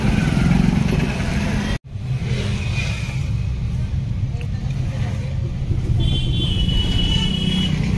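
Busy traffic crowds an entrance in Dehradun: cars and motorbikes hum and rumble close by, with a sudden brief break in the noise early on and people talking over it.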